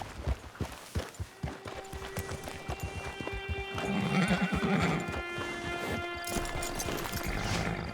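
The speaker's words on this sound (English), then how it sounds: "It's your horse." Horse in the game Red Dead Redemption Online whinnies loudly amid clip-clopping hooves and outdoor ambience, a snorting neigh building midway and trailing off.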